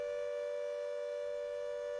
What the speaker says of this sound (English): We are hearing sirens over Warsaw.